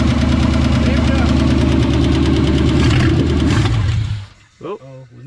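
A rebuilt 390 V8 in a 1963 Ford Galaxie runs loud and rough with a steady knocking, rumbling drone, then cuts out abruptly near the end, leaving a couple of faint sputters.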